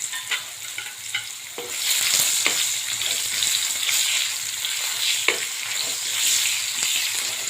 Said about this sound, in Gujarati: ડુંગળી નાખું છું.